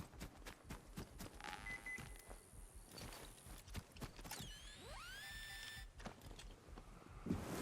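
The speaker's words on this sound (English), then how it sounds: "metal detector's beeping" Quiet electronic beeps and a warbling tone that sweeps up and down in pitch from a metal detector in the video game Atomfall, over faint rustling and handling noise.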